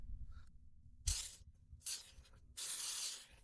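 Three short hissing bursts from an aerosol can spraying cleaner onto air impact wrench parts, close and fairly quiet, separated by brief pauses.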